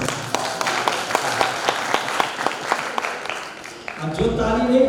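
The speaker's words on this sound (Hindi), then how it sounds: "फिर से जोरदार ताली बजाएं" An audience at a Krishna Pranami temple gathering marking an acharya's arrival claps in a rhythmic burst of sharp hand claps for about four seconds, fairly close, before a voice comes in at the end.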